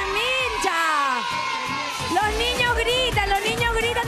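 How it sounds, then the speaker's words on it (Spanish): Children on a televised competition show shout and whoop with joy, many high, excited voices overlapping in a loud, continuous chorus of cheering from a crowd. "Los niños gritan de felicidad."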